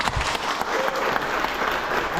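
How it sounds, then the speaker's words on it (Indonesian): Wedding guests applaud together in a steady, dense burst of clapping that fills the whole stretch, loud and close, with no voices standing out above it. "Oke, tepuk tangan."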